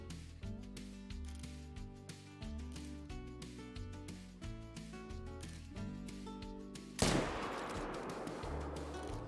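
A single rifle shot fires in the hunting video game theHunter: Call of the Wild, a sharp loud crack near the end that follows steady background music.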